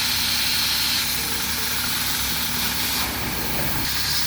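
A loud, steady hissing spray of pressurized water jets into a radiator's cooling holes throughout, broad and rushing with slight shifts in tone.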